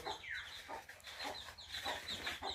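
Young chickens let out of a coop, with close, busy clucking and chirping in repeated bursts throughout and no talk.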